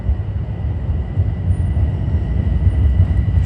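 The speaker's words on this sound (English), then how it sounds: "Coming in on 3 is train 355 for Crestwood." A Metro-North commuter train pulls in on track 3 with a loud, steady low rumble and rolling wheel noise, a faint high tonal whine sitting above it.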